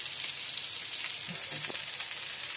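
Thin slices of halwa (pomfret) fish fry in a pan, a steady, moderate sizzle with a couple of soft knocks partway through, no talking.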